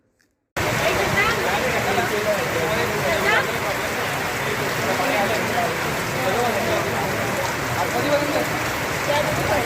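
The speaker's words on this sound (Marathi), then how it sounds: "मुसळधार पाऊस" A heavy downpour roars steadily at Rajgad Fort in Maharashtra, India, after a brief silent start, a dense continuous wash of rain with faint indistinct voices beneath.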